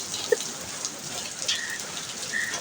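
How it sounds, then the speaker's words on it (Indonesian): Heavy rain falls steadily outdoors in the hills near Bogor, a dense, even hiss throughout with a few brief drip or splash accents. "Soalnya hujannya banyak nih."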